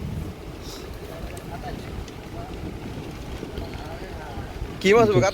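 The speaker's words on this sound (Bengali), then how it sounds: "অবশ্যই বুঝতে পারতেছেন প্রচুর বাতাস বইছে" Strong wind gusts during heavy rain at a fishing pond make a steady, loud broadband roar throughout, and a voice briefly cuts in near the end.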